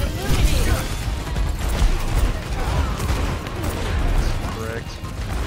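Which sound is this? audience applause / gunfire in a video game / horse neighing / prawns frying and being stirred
gunfire in a video game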